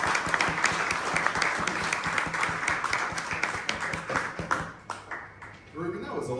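Audience applause at a talk on inequality in education, dense steady clapping from a crowd that keeps going for several seconds, then thins out near the end as a voice starts speaking.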